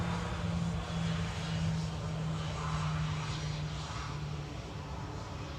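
A Tarom airliner in SkyTeam livery at Schiphol gives a steady, fairly distant roar of jet engine noise with a low droning hum underneath, holding even throughout with no talk.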